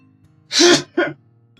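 A person sneezes loudly and close by, a sharp burst followed by a shorter second sneeze, with a faint background hum before and after.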